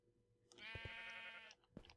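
A Minecraft sheep gives one clear, quavering bleat, fairly close and on its own against quiet game ambience, followed by a short soft thump, with no talk.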